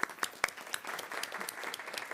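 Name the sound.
audience applause at school board meeting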